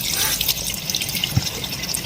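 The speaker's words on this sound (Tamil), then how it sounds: "டேப்பை திறந்து விட்டுட்டு ஃபுல்லாக தண்ணி விட ஆரம்பிச்சிட்டேன்." Tap water runs over a Vivo X90 Pro smartphone during a water-resistance test, a steady splashing hiss with scattered drips, close and moderately loud, with no voices.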